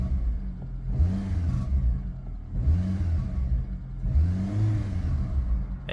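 Peugeot 207 from 2009 accelerating, engine note rising in three repeated surges with brief drops between, heard from inside, moderately loud with an unusual rumbling edge.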